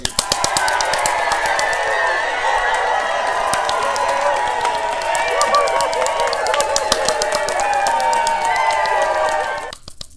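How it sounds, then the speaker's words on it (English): Steady applause from many hands, dense and loud, lasting about ten seconds and cutting off abruptly near the end, with a faint voice over it. "That round of applause is for you."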